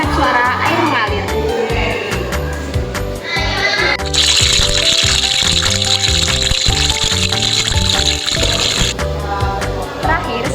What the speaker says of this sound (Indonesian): saya akan membuat efek suara air mengalir.